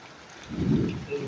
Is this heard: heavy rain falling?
yes